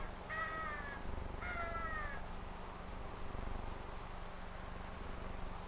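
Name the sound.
crow cawing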